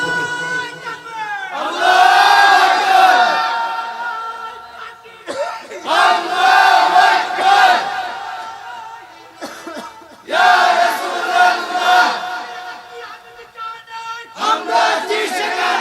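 A large crowd at a Bengali religious sermon shouts the takbir in loud, harmonized bursts. Three or four swelling calls are separated by short pauses, and the massed voices are close and powerful.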